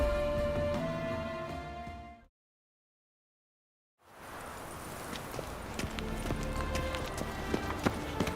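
Roach, a horse in The Witcher 3 on Skellige, with rhythmic hoof clip-clops under ambient sound, cut by a silent gap of about two seconds before the hoofbeats resume.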